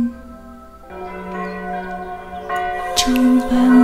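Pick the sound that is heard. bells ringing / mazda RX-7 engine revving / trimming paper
bells ringing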